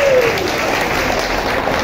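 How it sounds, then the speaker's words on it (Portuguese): Audience applause at the inauguration of the covered fruit market in Tabira, Pernambuco, steady and close, with a brief whistle at the start and faint voices mixed into the clapping. "Vamos aplaudir."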